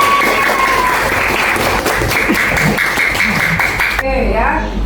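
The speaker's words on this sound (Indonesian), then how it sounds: "Luar biasa, tepuk tangan." Classroom applause during a teacher training session, dense clapping from a group filling most of the moment before breaking off, with a voice speaking as it ends.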